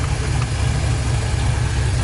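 A 1972 Chevrolet Nova engine idles steadily nearby, a loud continuous low rumble with no changes in pace and no voices.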